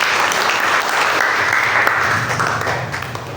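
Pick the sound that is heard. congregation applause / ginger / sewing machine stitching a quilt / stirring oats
congregation applause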